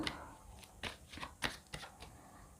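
Tarot cards are shuffled by hand in a quiet room, several soft crisp riffles and flicks with short pauses between them, close and faint.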